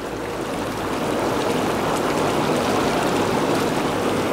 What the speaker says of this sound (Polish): więcej hałasu niż ta jednostka pochodzi tutaj ze środka jacuzzi